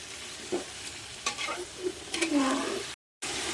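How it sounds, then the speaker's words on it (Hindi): Chicken pieces sautéed in a pot until the color changes and the liquid dries off, with a steady soft sizzle under several scraping stirs of a spoon, close up, a brief dropout near the end, and no talking. "चिकन को अच्छी तरह से हम कलर चेंज होने तक भूनेंगे और इसका पानी भी खुश्क कर लेंगे।"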